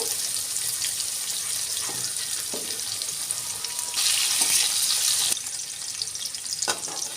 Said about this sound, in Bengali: এবার ওই তেলে আলুটা ভেজে নেবো আমি মধ্যে নুন দেব